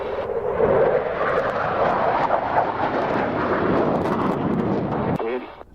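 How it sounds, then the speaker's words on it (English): F-22 fighter jet engine powering up at an air display, a loud rushing roar that holds steady for about five seconds before cutting off abruptly. "one of my favourite displays, the F-22. I'll agree with you on that, it's quite special. Just a little power up"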